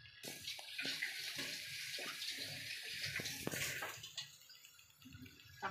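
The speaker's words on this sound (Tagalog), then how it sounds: "Mag-add pa tayo ng tubig." Water poured into a soup pot of beef and vegetable soup, a steady splashing pour running throughout, close and moderately loud, with a few brief clinks and no talk.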